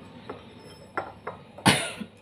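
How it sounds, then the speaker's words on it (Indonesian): A person coughs several times in a kitchen while preparing eggs, short bursts close by with a louder final cough, alone without talk. "Batuk, maaf."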